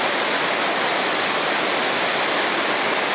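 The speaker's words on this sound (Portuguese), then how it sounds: "é muita água descendo aqui neste açude abaixo" Water pouring over the spillway of the overflowing Acaraú Mirim dam in Massapê, Ceará: a loud, unbroken roaring rush like a waterfall, close and steady, with no voices.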